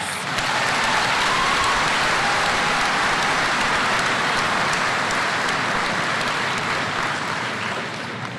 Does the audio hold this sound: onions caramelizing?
no